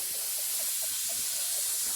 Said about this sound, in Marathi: कुकर लावलाय वरण भाताचा